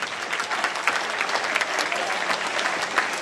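A crowd at a table tennis team event applauds a player, giving a dense, lively burst of clapping that holds steady for a few seconds.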